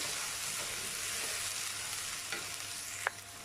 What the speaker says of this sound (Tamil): ஸோ நல்லா ஒரு ப்ரௌன் கலர் ஆற வரைக்கும் நல்லா வதக்கி எடுத்துக்கோங்க.